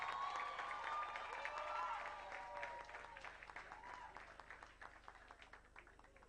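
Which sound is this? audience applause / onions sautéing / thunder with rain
audience applause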